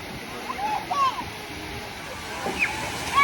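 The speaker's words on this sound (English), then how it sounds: "They're all sprinkling from the top there. It's like a massive water park, isn't it?" Water fountains spray and sprinkle from the top in the Alnwick Garden, giving a continuous splashing hiss with faint voices and brief chirpy sounds in the background.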